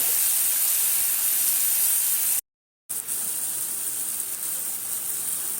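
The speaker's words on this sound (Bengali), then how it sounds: "দেখো, ঘিয়ের মধ্যে আমটাকে দিয়ে এইভাবে একটু মাখিয়ে নেব।" Raw mango pieces sizzle in a little hot ghee in a pan, a steady bright hiss that holds close and even, broken by one short gap of near silence.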